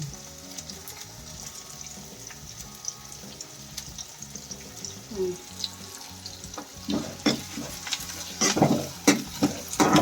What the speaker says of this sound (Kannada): ಒಗ್ಗರಣೆ ಫ್ರೈ ಆಗ್ತಿದ್ದು ಅದಕ್ಕೆ ಹಾಕ್ತಾನೆ.